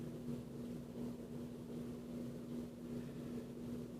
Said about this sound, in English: Not an exhaust fan, just a regular ceiling fan.